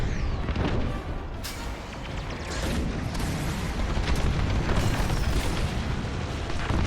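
Bomb explosions in Star Wars Squadrons roar as a continuous heavy rumble, with a few sharper booming bursts rising above the dense low roar.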